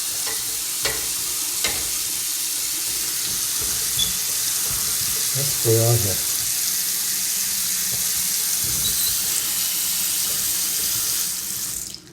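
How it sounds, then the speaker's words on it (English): Water runs steadily from a tap at an apartment sink during a move-in inspection, a continuous hissing rush with brief clunks and a short spoken remark partway through before it cuts off at the end. "So looks like water flows pretty well."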